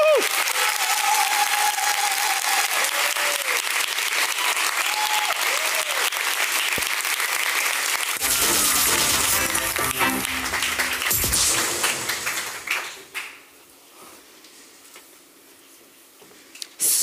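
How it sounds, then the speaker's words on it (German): An audience at a talk gives loud, sustained applause that thins out and fades near the end, with a few voices under the clapping. "Tosenden Applaus"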